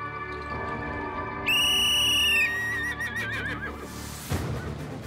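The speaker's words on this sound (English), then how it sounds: "She blew the whistle" A loud, sharp whistle blast sounds for about a second at a show jumping event, followed by a horse whinnying nearby amid outdoor background noise.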